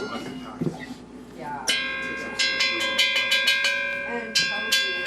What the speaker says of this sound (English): if you strike a bell,